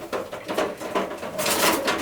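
A racing pigeon coos in a loft, a few soft rolling calls rising and falling close by, with faint handling noise and a brief background voice.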